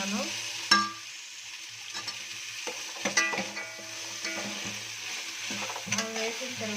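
Horse gram seeds fry in a pan with a soft sizzle while a spoon stirs them, giving scattered scrapes and clinks at an uneven rhythm throughout.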